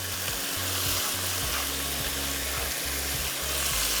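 Onions fry in a pot of hot oil for mutton biryani, a steady loud sizzle and crackle running unbroken from start to finish, close up.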